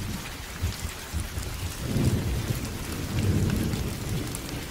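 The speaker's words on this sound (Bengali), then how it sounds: "বাইরে তখনও অফুরন্ত বৃষ্টি আর বজ্রপাতের খেলা।" Heavy rain pours down steadily while low thunder rumbles and swells through the storm, loud and continuous with no voices.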